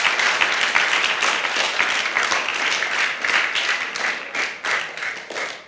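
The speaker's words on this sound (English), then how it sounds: "A clap for you people." Loud, close audience clapping at an award ceremony for a multiplication competition, a dense burst of many hands that holds steady and then thins toward the end with distinct individual claps.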